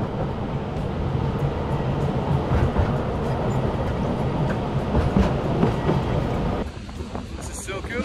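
The Šargan 8 heritage train at Mokra Gora, Serbia, rumbles loudly as it picks up speed, with clattering wheels and rattling cars close by, then the roar drops away abruptly near the end.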